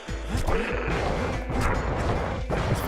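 The Calamity Cannon fires in the video game Bastion, heard as a string of crashing, thwacking impacts and mechanical clanks over busy game music and effects, steady and moderately loud.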